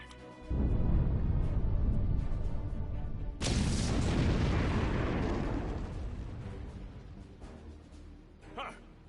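Loud explosion blasting a rock in Star Trek Online, a sudden booming blast that rumbles and slowly fades, after an earlier heavy thud.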